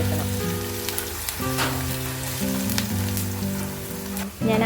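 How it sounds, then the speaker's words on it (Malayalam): Onions, chilies and curry leaves fry in hot oil with a steady, close sizzle, overlaid by sustained music tones. "ഉള്ളി നല്ല ബ്രൗൺ കളറാവുന്നവരെ ഇത് വറുത്തെടുക്കണം"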